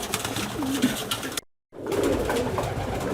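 Young pigeon squabs coo softly in a loft, low murmuring calls running steadily before and after a brief silent break.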